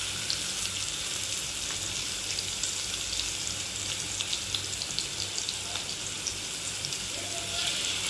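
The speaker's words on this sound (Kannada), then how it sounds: "ಸೊ ಇವಾಗ ಈರುಳ್ಳಿ ಬೆಳ್ಳುಳ್ಳಿ ಹಾಕಿ ಫ್ರೈ ಮಾಡ್ತಾಯಿದ್ದೀನಿ" Onion and garlic frying in a pan make a steady, even hiss of sizzling oil with faint crackles, close by and continuous, with a low hum underneath.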